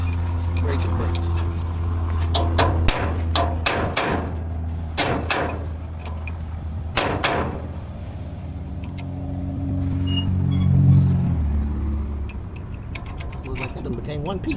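Repeated sharp metal hammer strikes on a trailer hub brake drum, loud and close in irregular bursts over a steady engine rumble, with a pause and a low mechanical swell near the end.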